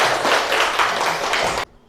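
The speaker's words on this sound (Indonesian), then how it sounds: "Tepuk tangan untuk kita semua" A classroom group of students and a teacher clap together in a dense, continuous burst of handclaps lasting about a second and a half, then it stops abruptly.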